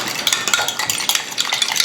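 A fork stirs salad dressing made with sugar and mustard in a dish, giving quick, light clinking and scraping strokes in an irregular rhythm, close up.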